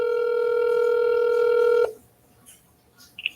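A steady electronic telephone tone plays while a hospital switchboard transfers a call, holding a continuous pitch for nearly two seconds before cutting off abruptly into near silence with faint line noise.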